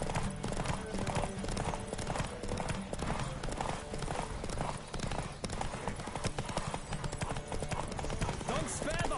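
Galloping horse hooves in The Witcher 3 video game, a fast steady clip-clop rhythm with occasional whinnies, continuous and fairly close, with game ambience behind.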